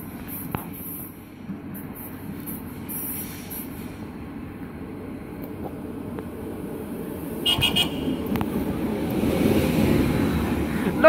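A Locomotion train rolls past the platform at Rosenbach station in the evening, a steady low rumble and wheel noise building louder toward the end with brief high squeaks.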